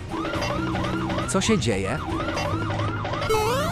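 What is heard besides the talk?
police siren from a video game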